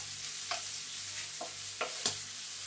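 Bacon, mushrooms and onion sizzle steadily in a frying pan, a constant bright crackle broken by a few soft scrapes of stirring.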